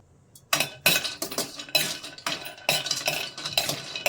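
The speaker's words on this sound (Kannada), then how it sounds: "ಈಗ ಸ್ವಲ್ಪ ಫ್ರೈ ಮಾಡ್ಕೊಳ್ಳೋಣ ಡ್ರೈ ಫ್ರೈಯೇ ಮಾಡ್ಕೊಳ್ಳಿ" Almonds are dry-fried in a pan without oil, stirred with a metal utensil. Rhythmic scraping strokes and rattling clinks come about twice a second, close and clear, with no talking.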